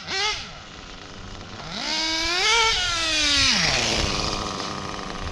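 A nitro RC car engine with a 069 race pipe buzzes close by with a high, raspy whine that swells and falls in pitch as the throttle blips.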